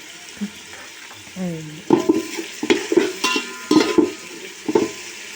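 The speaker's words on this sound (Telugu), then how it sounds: "ఉల్లిపాయలు కొంచెం వేగినాయో చూద్దామండి" Onions fry in a pan while a spoon stirs them, making a run of close, rhythmic scraping clatters over a soft sizzle.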